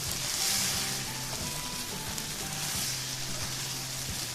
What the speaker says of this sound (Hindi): अब मैं इसे अच्छे से भून लूँगी।